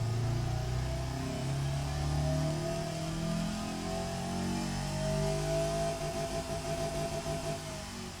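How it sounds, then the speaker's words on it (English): A four-cylinder car engine in the racing sim Automation revs steadily and loudly for several seconds, its tone climbing and holding with a constant mechanical drone, with no voices over it. "it's a 4-cylinder engine, so I'm not expecting it to sound fantastic"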